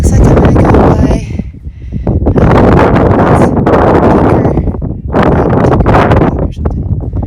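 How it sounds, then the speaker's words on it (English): Strong wind roars and buffets loudly against the microphone on a Sierra mountain summit, in heavy continuous gusts with brief lulls. "there was way too much wind and you really couldn't hear anything that I was saying"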